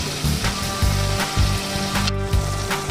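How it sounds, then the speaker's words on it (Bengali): Ginger garlic paste sizzles in a pan of fried onions for a fenugreek chicken curry, giving a steady loud crackle with bursts of spattering and a few brief louder pops throughout. "যে বাকি আদা আর রসুন পেস্টটা রেখেছিলাম সেটা এবার আমি এর মধ্যে দিয়ে দিচ্ছি"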